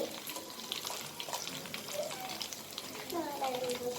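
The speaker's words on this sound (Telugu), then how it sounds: "కర్రీ లీవ్స్ కొద్దిగా ఫ్రై అవ్వాలి." Curry leaves with turmeric crackle and sizzle in hot oil for a South Indian tomato pickle tempering, a steady close frying hiss with faint talking in the background.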